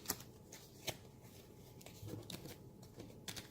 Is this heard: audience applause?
no